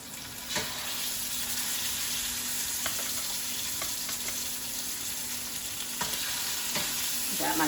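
Lamb chops searing in a hot, large 15-inch skillet give a loud, continuous sizzle close by, with a few faint clicks and pops over the even frying hiss and no talking.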